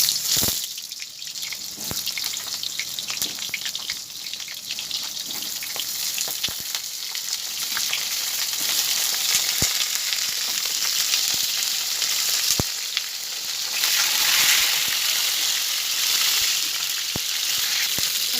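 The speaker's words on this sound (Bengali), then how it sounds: "আর এখানে কড়াই তেল দিয়ে দিয়েছি, গরম হয়ে গেছে। দিয়ে দেবো কেটে রাখা পটল।" Sliced pointed gourd (potol) frying in hot oil in a wok, with a continuous loud sizzle and crackle, occasional sharp pops and faint stirring clinks, and no talking.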